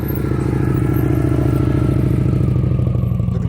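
A motorcycle creeps along at very low speed with the brake dragging, its engine a loud, steady, close low throb with even pulsing throughout and no revving.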